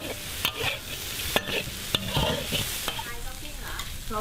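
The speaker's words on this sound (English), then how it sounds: "so he's just stir-frying all of that" Quail being stir-fried dry in a pan to drive off its moisture: a spatula scrapes and knocks in irregular strokes over a soft, continuous sizzle, close and alone without talk.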